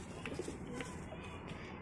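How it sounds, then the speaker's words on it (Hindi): Domestic Amethi pigeons kept by a pigeon fancier coo softly and repeatedly at close range, with a low background hum. "ये रहा भाई कबूतर"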